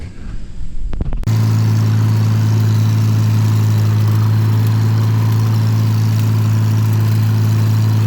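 A Farmall 706 tractor engine idles close by with a deep, constant low rumble, starting abruptly after a brief quiet moment and running evenly to the end.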